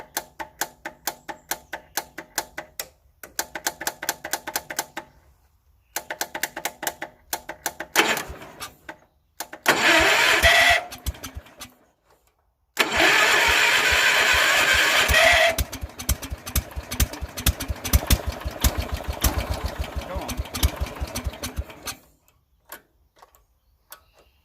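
An old tractor engine being cranked by its starter motor, with rapid rhythmic chugging bursts broken by pauses, then catching into a louder steady running roar before cutting out.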